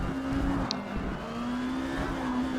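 Porsche 550 Spyder at speed in a fast qualifying session at Hakone circuit, its engine holding a steady high-pitched drone that rises slightly, heard from on board, loud and continuous with no talk.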